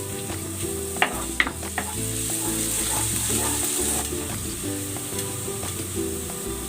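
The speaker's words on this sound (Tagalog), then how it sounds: "Maglalagay ako ng cooking oil. Maggigisa ako ng konting bawang." Garlic sautés in hot cooking oil ahead of a beef and vegetable stir fry, giving a steady close sizzle with a few sharp pops and clinks of stirring near the start.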